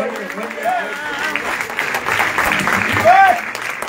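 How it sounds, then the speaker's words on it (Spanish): A Pentecostal church congregation in Hellertown, Pennsylvania applauds, a sustained wash of clapping and crowd noise with voices calling out in Spanish over it, moderately loud and continuous. "Un aplauso, pero"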